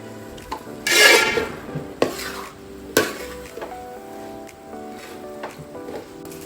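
Onions and chili powder stirred in a pan for a chicken biryani, repeated close scrapes and clinks of a spoon against metal over a light sizzle, with a louder burst early on.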